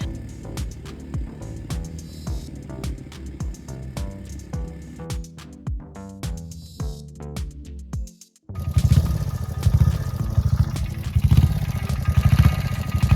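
A small engine clatters and revs in uneven bursts, then cuts out briefly before a louder, steady engine roar returns up close.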